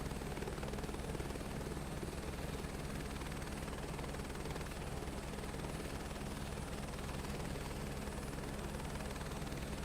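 A helicopter engine and rotor in Microsoft Flight Simulator 2024 drones continuously and evenly, with a dense, steady whine and throbbing rotor hum throughout.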